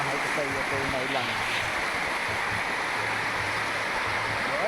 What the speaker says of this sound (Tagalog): So, ganda ng agos ng tubig.